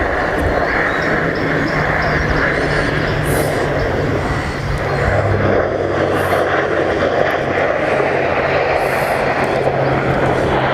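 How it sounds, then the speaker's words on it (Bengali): A Novo Air airliner landing at an airport in Bangladesh, its engines giving a loud, steady roar that holds without a break for about eleven seconds, with a low hum running underneath. "দেখুন আস্তে আস্তে বিমানটা কিভাবে ল্যান্ড করে দিল"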